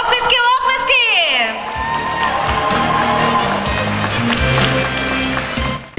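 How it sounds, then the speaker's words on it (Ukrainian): Crowd cheering and whooping at the final of a talent show competition, loud and sustained over a steady music bed, with voices shouting throughout. "Оплески, оплески!"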